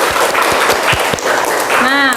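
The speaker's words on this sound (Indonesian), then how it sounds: "Ayo tepuk tangan untuk kita semua." A classroom of students claps together, a loud, dense, continuous round of applause that fills the room from start to finish.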